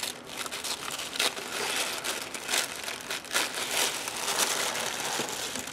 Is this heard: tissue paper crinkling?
yes